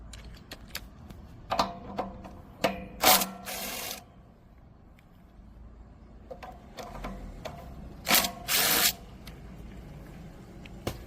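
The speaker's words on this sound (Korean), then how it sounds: "너트 두 개를 풀어주시면 돼요" Two 10mm nuts being loosened on the carburetor of a small farm cultivator, a close series of metallic clicks, wrench ratcheting and scraping in irregular bursts, with no talking.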